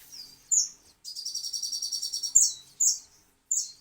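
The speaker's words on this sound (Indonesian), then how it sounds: "udah waktunya burung bunyi makanya berisik" Birds chirp in the early morning: short high tweets and a rapid run of repeated notes, moderately near and fairly faint with no talking.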